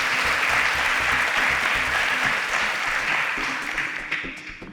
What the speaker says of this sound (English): A round of applause for all our super SPAKs.